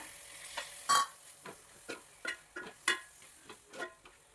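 Chicken masala with two chopped tomatoes being sautéed in a pan for a Kerala-style chicken potato roast, heard as a series of distinct scraping stirs and soft clicks over a quiet sizzle, close and moderately loud, with no talking.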